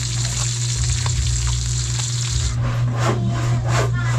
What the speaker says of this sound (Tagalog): nagpipirito rin po tayo ngayon ng maliliit na galunggong